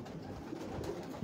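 Tony-breed pigeons on a Lahore rooftop give a brief, soft, low cooing against a steady background hum.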